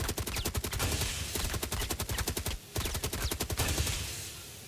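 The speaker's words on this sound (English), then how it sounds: "Find these servers. Shoot them." Bursts of rapid automatic gunfire from a first-person shooter game, fired at servers in a tunnel. Dense volleys of rattling shots come in two long strings separated by a brief pause, close and steady, with no voices.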